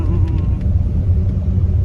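A car engine rumbles in a steady, loud, low drone as the vehicle climbs a very steep road on an adventure drive in Al Ula, with a faint buzzing whine over it.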